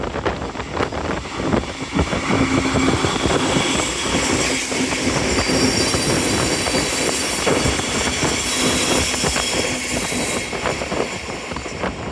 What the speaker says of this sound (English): catching this manifest with an SD40 sandwiched between two GEVOs